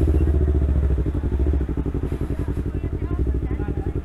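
A motorcycle idles close by with a rapid, throbbing engine pulse and a low rumble, steady throughout with slight clattering.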